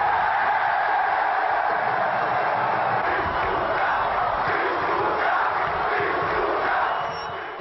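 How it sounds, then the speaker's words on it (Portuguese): A football stadium crowd roars in celebration during a Brazilian championship match between Vasco and Bahia, a dense, sustained wall of distant cheering that fades slightly at the end. "e a torcida comemora"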